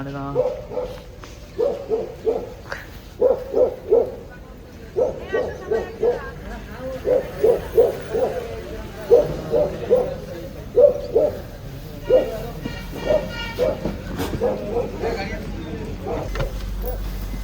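A dog in Shimla howls and yelps in a steady run of repeated, evenly spaced bursts that carry on for a long stretch, loud and fairly close over a low background hum.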